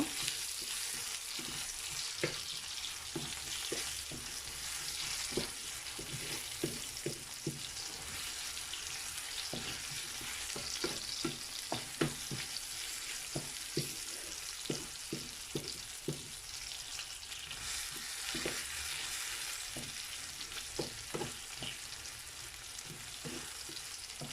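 Onion frying in oil in a pan on reduced heat, a steady broadband sizzle running throughout with frequent sharp clicks and scrapes of stirring, close and moderately loud, no voices.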